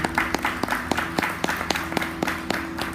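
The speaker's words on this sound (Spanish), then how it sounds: "Ángel Rafael Martínez Alarcón, para quien pido, como siempre, un aplauso de recibimiento." An audience claps to welcome a speaker at a fair. The sharp claps come in a steady, fairly sparse rhythm at close range, with no talk over them.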